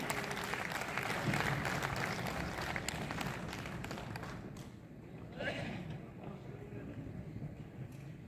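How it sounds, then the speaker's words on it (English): Audience applause at a Rotary peace conference felicitation, fairly dense at first then thinning into scattered claps and crowd noise, somewhat distant. "Let's give him a huge round of applause"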